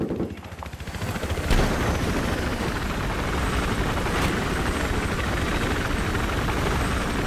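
Military helicopter in the Battlefield 3 video game, a loud close rotor thump with a pulsing chop and whining engine, setting down amid background gunfire and rattling impacts.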